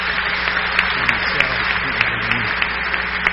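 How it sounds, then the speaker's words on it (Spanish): Sustained applause from an audience at a public forum, even and continuous clapping from the room with a low hum underneath. "Agradeceré por favor un fuerte aplauso para el profesor Javier Protzel."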